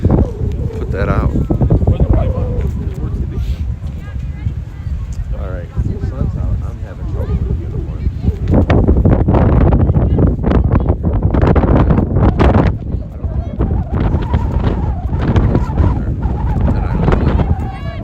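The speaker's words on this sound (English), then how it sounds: "wind again, now gusting up into the 20-mile-an-hour range" Strong wind gusting across an outdoor soccer field in Boston during a women's match, buffeting the microphone in loud, uneven surges under a commentator's voice, building heavier through the second half.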